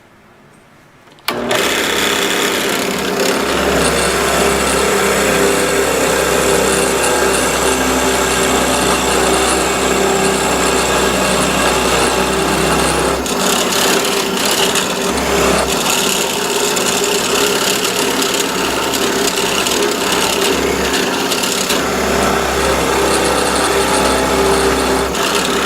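A power drill spins a 3/4 inch bore bit into an oak 2x4, a steady loud whirring grind that starts abruptly after a brief quiet moment and runs continuously, with a short dip in intensity midway.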